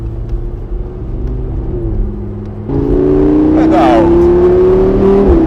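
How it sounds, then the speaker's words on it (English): Lamborghini Huracan Spyder engine rumbling, then surging into loud, rising acceleration at close range with a climbing engine note, while a person speaks briefly. "the acceleration is completely different when you"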